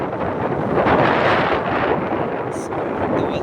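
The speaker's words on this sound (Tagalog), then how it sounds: "Lakas ng hangin." Strong wind on the coast at Pagbilao, Quezon buffets the microphone with a constant roaring rumble, loud and unbroken, with a faint squeak near the end.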